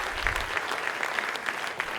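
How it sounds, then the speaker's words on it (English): Audience at a sports and education event gives a short, moderately quiet round of applause, an even patter of many hands clapping with a few sharper individual claps standing out. "give him a clap"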